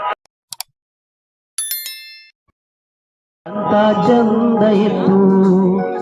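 A notification bell sound effect: short bright dings ring out with brief gaps, then a sustained tonal musical passage takes over, loud and alone.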